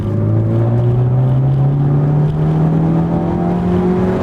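A stock 2018 Ford Focus ST accelerates hard on a race track, its engine note climbing steadily in pitch as it revs up, loud and close from inside the car, no talking.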